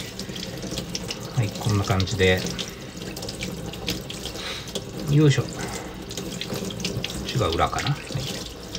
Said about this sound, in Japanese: 水の勢いが強すぎるかな？